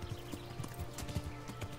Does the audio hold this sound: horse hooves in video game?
yes